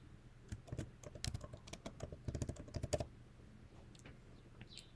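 Quiet, close clicks of a MacBook keyboard as a password is typed, a quick burst of keystrokes that trails off into near silence.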